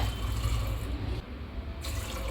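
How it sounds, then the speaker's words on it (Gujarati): About three cups of water pour steadily into a metal pressure cooker with a rushing splash, briefly thinning before the flow resumes. "અને તેમાં ત્રણ કપ જેટલું પાણી નાખ્યું છે"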